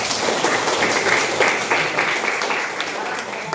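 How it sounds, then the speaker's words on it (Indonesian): A class of children claps together in a classroom, a brisk burst of many hands that carries on and tapers off, with voices mixed in. "tepuk tangan."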